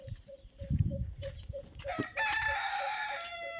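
A rooster crows loudly nearby in one long, drawn-out call, with faint clucking and scattered farmyard noise before it.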